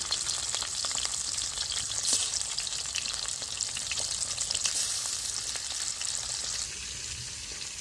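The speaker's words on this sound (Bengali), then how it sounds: "আমি এগুলোকে ভালো করে তেলে ভেজে নিচ্ছি।" Bhetki fish bones and pieces frying in oil in a karahi make a loud, continuous crackling sizzle with scattered sharp pops. The sound eases slightly near the end.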